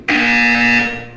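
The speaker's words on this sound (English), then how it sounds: "You will hear a buzzer." A single harsh electronic buzzer from the video game Portal 2 blares loud and steady for about a second, then cuts off.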